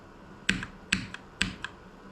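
Three sharp, evenly spaced key presses on a computer keyboard during gaming, each a crisp click followed by a softer release, close and alone with no talk.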